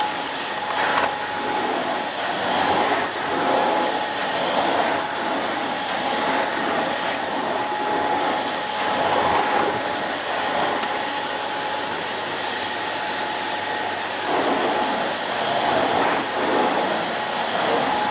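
A Vax Mach Zen Pet 2 cylinder vacuum cleaner with its turbo brush on carpet runs in a continuous steady roar, loud and close, with small shifts as it is pushed.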